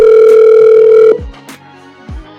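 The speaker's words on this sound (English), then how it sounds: "I've got this thing hooked up to my phone now, and I'm going to make some phone calls." Dial tone from a Poly Sync 20 Plus speakerphone placing a call: a loud, steady tone held for about a second, then cut off, followed by a few short clicks and soft thumps of dialing.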